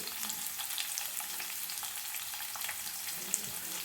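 Chopped onions and green chillies fry in hot oil in a pan for avalakki bath, a steady soft sizzle with faint stirring scrapes and no talk.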